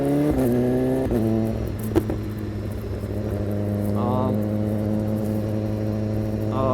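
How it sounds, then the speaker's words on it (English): A BMW S1000RR sport motorcycle slowing from about 40 km/h and dropping through several gears, its engine note stepping down with blips between shifts, steady and close, with a voice talking over it. "I'm gonna slow down because it's 40 km an hour and drop a gear, another gear, and then another."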